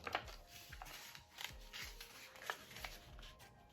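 Paper being folded for an origami Christmas tree: soft, close crinkling and creasing rustles in several quick strokes, quiet and irregular, with no talking.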